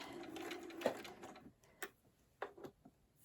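A sewing machine stitches fold-over appliqué slowly, a soft run of mechanical whirring early on, then a few isolated clicks and short bursts, quiet and close.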